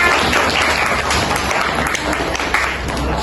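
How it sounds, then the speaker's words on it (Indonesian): Applause from a classroom of students for a classmate, a dense steady clapping that fills the whole stretch, loud and close with no break. "Beri aplaus buat temannya."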